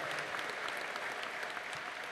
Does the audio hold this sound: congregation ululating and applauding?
yes